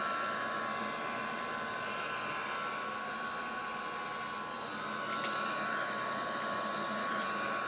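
Airbus A330-200 engines in a flight simulator, a steady broadband roar and whine held at a constant level throughout, with no voices present.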